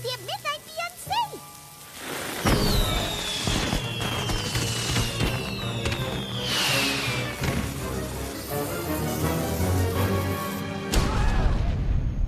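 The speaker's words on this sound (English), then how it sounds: "Why would untested magic fireworks that I bought in a back alley from Trixie at midnight be unsafe?" Cartoon magic fireworks go off in a burst of crackling pops, whistling streaks and booms, dense and loud for most of the stretch, with a voice briefly at the start.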